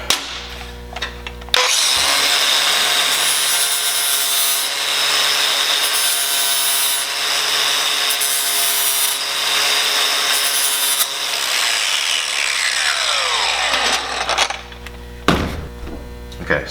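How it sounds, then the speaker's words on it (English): A power deburring tool grinds along the cut edge of custom intercooler piping for a Nissan S13 with a 2JZ swap. The grinding is loud and sustained for about twelve seconds, then winds down, with short bursts of tool noise afterward. "So I'm just gonna deburr this."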